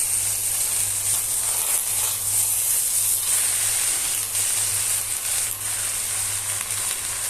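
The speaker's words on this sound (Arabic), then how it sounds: "هحط بقى الايه الرز وهشوحه مع الشعرية تشويحة حلوة" Rice with vermicelli and garlic sautés in a hot pan, giving a steady, loud sizzling hiss with faint stirring scrapes throughout.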